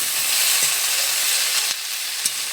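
Steady frying sizzle of spiced vegetables for Bengali shukto, cooked with onion and garlic, with a few soft stirring scrapes in the pan, close and continuous with no talk.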